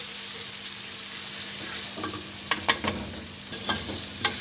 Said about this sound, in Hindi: इसको हल्का सा हम इसमें फ्राई करेंगे, बहुत ज़्यादा नहीं करना, नहीं तो मसाले जल जाएंगे।